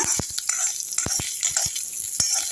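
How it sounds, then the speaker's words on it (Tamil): Urad dal frying gently in a pan over low heat, for a hotel-style coriander chutney: a soft continuous sizzle broken by sharp close clicks and taps from stirring. "தீயை குறைச்சி வச்சுக்கோங்க வேஸ்ட்டாக வதங்கினா போதும் உளுத்தம் பருப்பு வந்து தீயாமல் பார்த்துக்குங்க"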